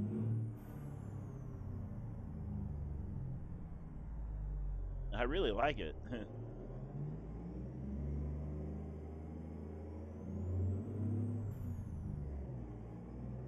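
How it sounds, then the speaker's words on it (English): Cummins 444 series diesel in a Peterbilt 388 wrecker in American Truck Simulator hums low and steady at cruise, with a brief air brake hiss midway, under someone talking. "So we're using the Cummins 444 series engine sound that comes with this."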